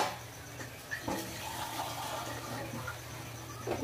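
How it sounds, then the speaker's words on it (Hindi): Water poured into a cooking pot while making a restaurant-style Hyderabadi boneless chicken handi: a steady, fairly quiet rushing pour lasting a few seconds, with no talking. "इसमें हम थोड़ा सा पानी डालेंगे।"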